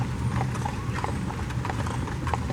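Horse hooves clip-clop steadily on Duke of Gloucester Street in Colonial Williamsburg as a carriage rolls along, the beats close and continuous over a low rumble of wheels and street noise.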